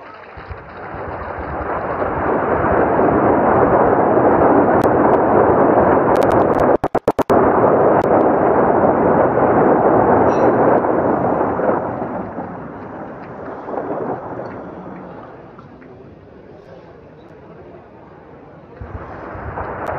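A rocket launcher system fires a salvo of rockets during the Bharat Shakti military exercise at Pokhran, Rajasthan: a sustained, loud roaring rumble that swells, holds for about ten seconds, then fades into a lower, distant rolling tail.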